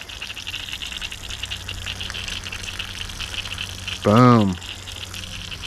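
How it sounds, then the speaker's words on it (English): Water and air gush steadily through the hose line of a Xero Pure Revolution Max+ reverse osmosis water system, a continuous rushing hiss throughout with a short spoken word near the end. "Air going through the line again."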